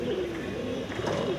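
Pigeons coo in a steady, close-up chorus of low throaty murmurs, continuous throughout with no voices.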